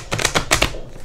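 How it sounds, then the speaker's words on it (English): A tarot card deck being shuffled in a few quick riffling bursts, close and fairly loud, with no talking over it. "Let's just begin shuffling this deck"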